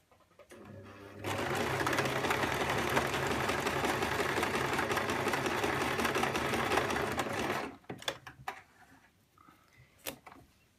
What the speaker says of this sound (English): We're going to backstitch at the beginning and end of both ends of this particular stitch, of this particular seam